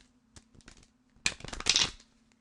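Angel Answers oracle cards being shuffled by hand: a few light taps and riffles, then a denser burst of flicking card noise, close and fairly quiet, with no talking.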